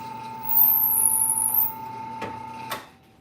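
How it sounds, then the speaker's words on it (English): A reamer sizing a hole in a chef knife blade, giving a brief high mechanical whir over a steady machine hum, followed by two sharp clicks before fading out. "So we're gonna come back and we're gonna ream this hole here to size."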